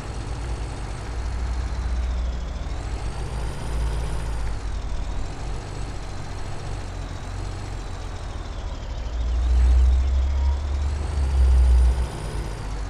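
A steady truck engine drones in Farming Simulator 17 under a continuous hiss that swells near the end, loud and unbroken, with no talk.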